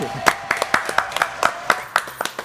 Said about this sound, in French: Applaudissements pour Loïc